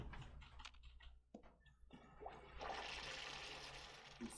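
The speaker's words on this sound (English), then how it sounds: "Flush the toilet?" A toilet flushes in Fallout 76. A few soft clicks come first, then a loud rushing whoosh of water that pours on steadily to the end, with no talking.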